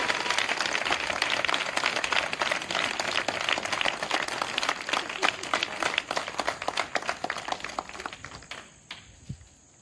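A church congregation applauding together at a sermon, dense sustained clapping that fades out near the end, with a few faint voices mixed in.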